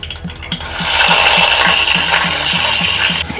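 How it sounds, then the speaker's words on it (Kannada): Chopped onion frying in hot oil with mustard seeds, a steady loud sizzle running throughout with faint rhythmic clicks beneath, no voices. "ಈರುಳ್ಳಿ ಚೆನ್ನಾಗಿ ಫ್ರೈ ಆಗ್ತಾ ಇದೆ."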